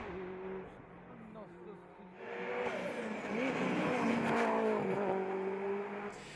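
A Mitsubishi Lancer Evo 7 RS competing in a hillclimb run revs hard, its engine note rising and shifting through gears, with commentary talking over the sound.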